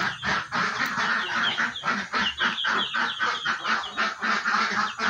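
A flock of ducks kept in a pen quacks continuously and loudly, overlapping harsh calls in a dense, irregular chorus with no talking.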